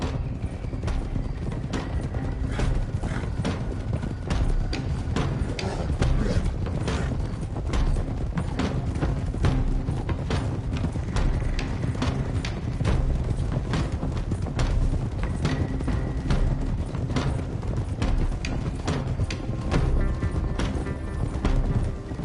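Several horses gallop in Red Dead Redemption 2, a continuous dense drumming of hoofbeats with creaking tack, steady and fairly loud throughout, with no talk.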